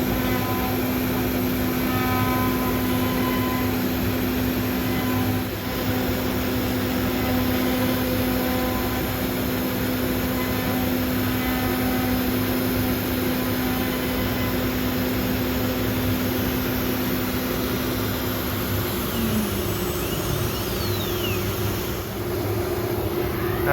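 CNC router engraving a 3D design into solid redwood, a loud continuous spindle whine with a steady mechanical hum, close up, dipping briefly in pitch near the end.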